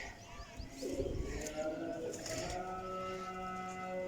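Champion pigeons of various breeds, including Teddy and Batera, coo in a loft as soft, repeated throaty calls, with faint chirps and a low murmur in the background.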